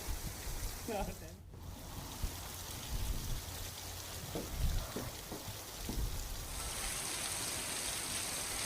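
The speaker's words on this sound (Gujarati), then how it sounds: "આજે પણ ગાજવીજ સાથે વરસાદ વરસ્યો" Heavy rain falls steadily in a town during a thunderstorm, a continuous dense hiss with scattered low thumps and a brief voice early on, the wash growing brighter and fuller near the end.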